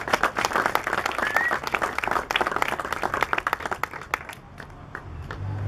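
Applause at a political press conference honoring a senator: a room of people clapping, dense at first, then thinning into scattered individual claps as it dies away.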